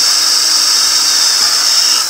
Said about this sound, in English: So I'm going to drill a couple of holes here to have this ready to go.